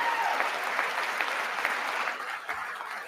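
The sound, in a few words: audience applause during the State of the Union address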